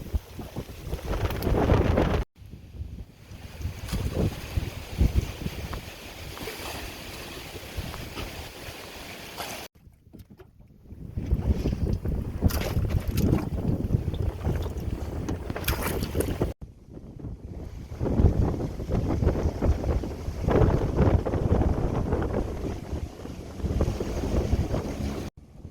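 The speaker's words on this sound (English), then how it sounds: "Holy fuck, it's windy, man." Strong gusty wind buffets the microphone while boating on a lake in the Scablands of Eastern Washington, with loud roaring bursts broken by brief lulls and faint water and boat sounds beneath.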